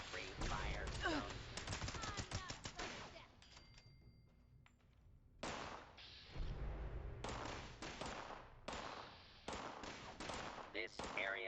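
Automatic gunfire from an attacking robot in Fallout 76: dense, loud rapid bursts in two long stretches separated by a quieter gap, with further short volleys toward the end.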